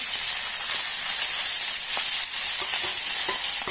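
Small puthi fish fry in a pan with a steady, bright sizzle and hiss, close and loud, broken by a few soft stirring clicks, with no voices.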